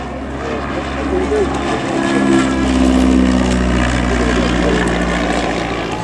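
An SE5a First World War biplane flies at the Shuttleworth airshow, its propeller engine giving a loud, steady, low drone that swells slightly and holds for the whole stretch.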